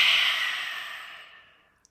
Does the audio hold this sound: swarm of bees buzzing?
no